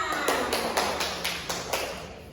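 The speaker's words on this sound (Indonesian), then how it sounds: "Beri tepuk tangan dulu untuk Diana" A small classroom group claps for a student after her answer, a brief run of spaced, fairly even claps that gradually fade.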